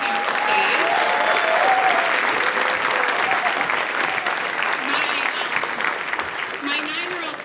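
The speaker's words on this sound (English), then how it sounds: "Can we give them one more round of applause as they walk up the stage?" Audience at a high school winter choral concert giving sustained applause as the choir walks onto the stage, a thick steady clapping from a full room with a few voices and cheers mixed in.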